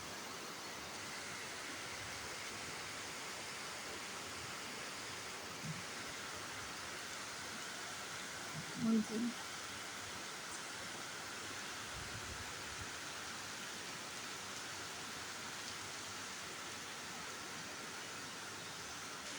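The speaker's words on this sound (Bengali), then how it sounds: "অনেক বৃষ্টি হইতেছে" Continuous, even hiss of heavy rain falling at a distance, soft and unbroken, with one faint brief knock midway.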